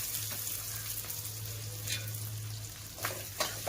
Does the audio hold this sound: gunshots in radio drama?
no